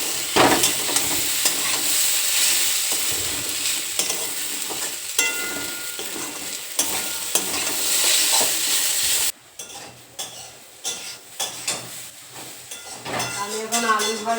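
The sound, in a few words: frying potatoes in a pan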